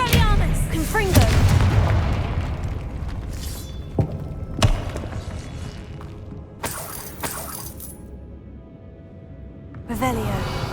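A Confringo blasting spell explodes in the Hogwarts Legacy video game, giving sharp crackling bursts and shattering booms over a busy battle mix, with spoken spell incantations heard as well.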